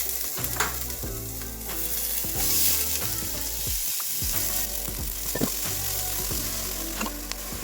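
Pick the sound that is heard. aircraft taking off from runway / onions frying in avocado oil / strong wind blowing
onions frying in avocado oil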